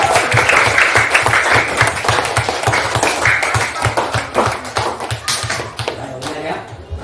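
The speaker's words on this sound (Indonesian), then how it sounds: "tepuk tangan untuk kita semua" A classroom of students claps together, fairly close and loud, with rhythmic, slightly uneven beats and some children's voices mixed in throughout.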